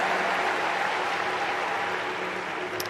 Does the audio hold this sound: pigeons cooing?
no